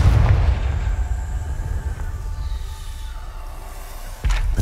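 A Confringo fire spell going off in Hogwarts Legacy, a low rumbling burst with crackling that holds steady and loud, then a fresh sharp blast near the end.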